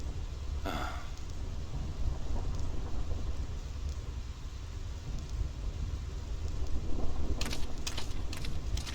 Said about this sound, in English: This storm never stops.